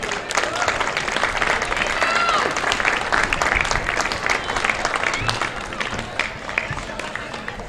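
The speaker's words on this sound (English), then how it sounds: "A big round of applause for the McLaren girls" Loud, close applause and cheering from a crowd at a grand final sporting event, acknowledging the McLaren girls team, with voices mixed into the clapping throughout.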